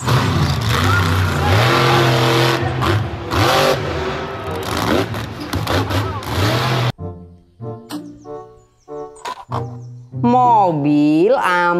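A toy monster truck lets out a loud, buzzing engine rev with rising and falling pitch for about seven seconds, followed by spoken voices.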